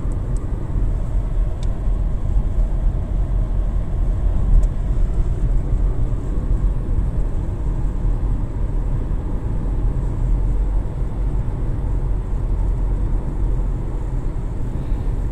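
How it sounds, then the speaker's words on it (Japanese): A Subaru Impreza Sport rolls along on Powergy 205/55R16 tires, its cabin filled with a constant low road and engine rumble that holds steady throughout. "このインプレッサスポーツを走らせてみましょう"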